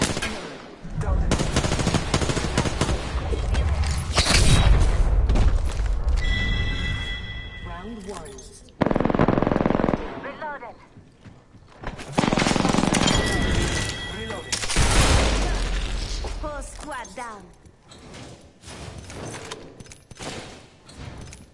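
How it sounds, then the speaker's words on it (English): Gunfire in the shooter game Apex Legends: loud bursts of rapid automatic fire and sharp shots crowd the scene in dense waves, with brief lulls and a player talking at times. "Well, I just killed a guy with a sniper rifle"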